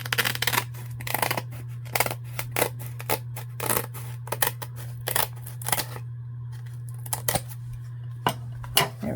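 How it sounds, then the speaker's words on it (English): Scissors trim the edge of a homemade book cover in a series of crisp, close snips, some in quick bursts and others spaced apart, over a quiet background hum. "I think I'm just gonna trim this up some more here."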